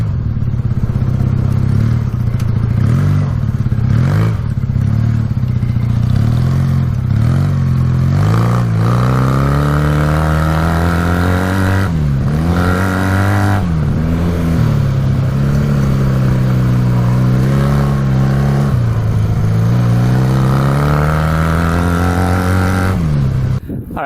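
Honda trike engine running and driving off-road, loud and close, revving up and down repeatedly with rising and falling pitch sweeps and some clatter, with no voices.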